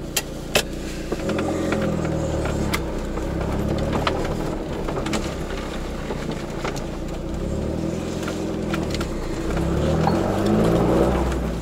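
Steady low engine drone inside an early-1970s first-generation Volkswagen Golf Mk1 while driving, a continuous rumble with gentle swells in pitch as the car moves, a few small clicks and knocks on top.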